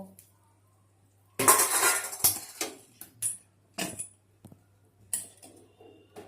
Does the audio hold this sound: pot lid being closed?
yes